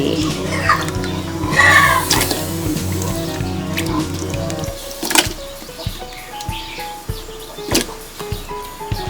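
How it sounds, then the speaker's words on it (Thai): Pieces of winter melon drop into a pot of boiling water for clear soup, with wet splashes and squishy plops over bubbling, then scattered drips and light clinks close by. "ตั้งน้ำให้เดือดแล้วเราก็ ใส่ฟัก"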